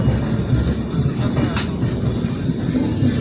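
A passenger train runs on rails on a journey from Kokrajhar toward Secunderabad, with a loud continuous rumble and rattle of wheels that holds steady throughout.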